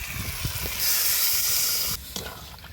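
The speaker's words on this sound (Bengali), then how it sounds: "এবার দিয়ে দেবো জল।" Water poured into a hot pan of village-style vegetable curry with fried lentil dumplings bursts into a loud, sustained steam hiss that cuts off abruptly, with stirring and sizzling around it.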